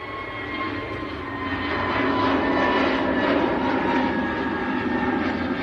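A Pegasus Airbus A321neo jet takes off at Manchester Airport with a loud, sustained engine roar that builds slightly and then holds steady from a moderate distance, and no one speaks over it.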